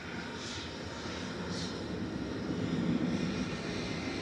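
British Airways Airbus A319 Classic, registration G-EUOF, taking off from Manchester bound for London Heathrow, a fairly distant, moderate jet rumble that swells slightly as it climbs away, with no talk over it.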